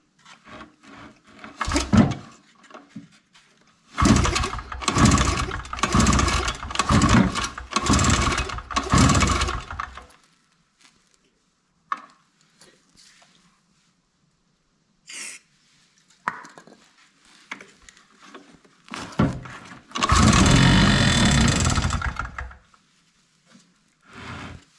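An old Chicago Electric two-stroke portable generator, choked and fuelled, is yanked with its pull cord in a rapid series of rough attempts, then after quiet gaps briefly catches and sputters loudly before falling silent.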